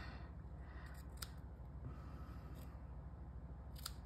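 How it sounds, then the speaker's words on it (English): Scissors trim the ends of a paper strip wrapped around a sour cream container, giving a few faint, quick snips over a steady low hum. "Just gotta cut the ends here."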